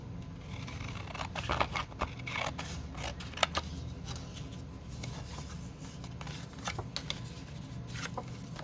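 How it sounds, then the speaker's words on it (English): Scissors trim a strip of paper in a quiet room, giving a run of soft, close crisp snips and light rustling of paper being handled. "I need to trim the width a little bit."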